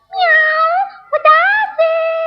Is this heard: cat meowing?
yes